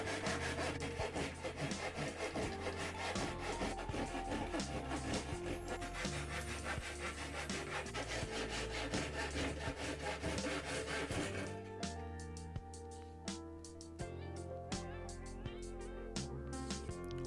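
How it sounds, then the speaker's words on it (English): A handsaw cuts through thin 5mm plywood with dense, rapid rasping strokes that go on continuously, then turn into slower, more separate strokes near the end. "I can get that cut out with a handsaw"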